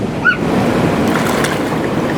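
Sea surf washes steadily at the Magpupungko rockpools on Siargao, a continuous rushing roar of water with wind buffeting the microphone and a brief faint chirp near the start.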